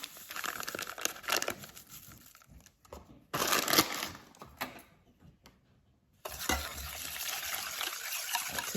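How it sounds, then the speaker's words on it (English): French vanilla pudding mix poured from a packet into a bowl, giving bursts of dry crinkling and rustling separated by short pauses, close and moderately loud. "So I'm gonna put the pudding in the bowl."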